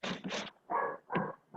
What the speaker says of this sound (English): We got the dog chiming in.